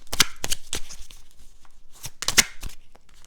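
Runes drawn from a set and handled for a divination reading, a series of sharp clicks and clacks in uneven clusters, close and fairly crisp.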